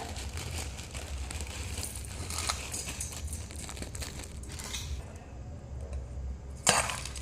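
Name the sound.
crispy jhuri bhaja being added and mixed into aloo kabli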